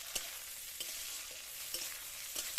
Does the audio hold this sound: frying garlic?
yes